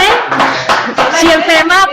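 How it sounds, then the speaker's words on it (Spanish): Audience applause at a clinical COVID-19 update session, close, loud clapping in uneven bursts, mixed with speech. "Nos están dando un aplauso."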